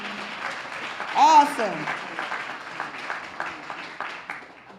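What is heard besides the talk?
audience applause at a plenary session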